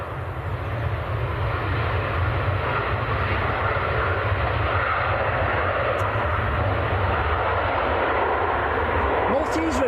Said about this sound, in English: And that is Ryanair from Pisa, just touching down.